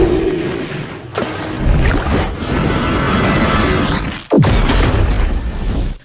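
Spilled jet ski fuel on the water ignites in a loud, broad roaring blast, followed by a second sharp burst that rumbles on with a sustained noisy wash; no voices.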